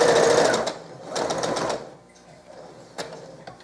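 A sewing machine stitches fabric for small bean bags, two quick bursts of rapid mechanical chatter close by, then a pause while the fabric is turned, with faint handling clicks.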